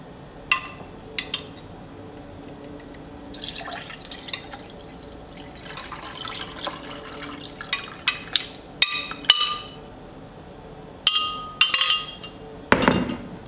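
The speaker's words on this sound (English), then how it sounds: "Okay, the tea is all done, so I'm taking the tea bags out now." Tea bags are lifted out of brewed tea in a glass, giving soft drips and light clinks against the glass. The sounds come in scattered bursts close to the microphone, with no voices.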